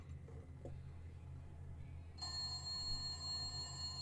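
An old rotary dial telephone bell starts ringing partway through, a sustained metallic jangle sitting moderately loud over a low background hum, with no voices.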